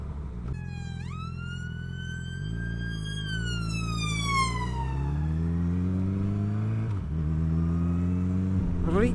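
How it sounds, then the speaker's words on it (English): An ambulance siren sweeps up and down in traffic while an engine and road noise rumble underneath, the wail rising as it nears and falling in pitch as it passes, heard from a motorbike. "Ambulance."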